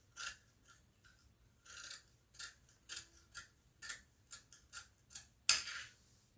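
Scissors snip through fabric to cut out a sleeve, a string of short, crisp blade closures in an uneven rhythm, close and fairly quiet, ending with one louder, sharper snip.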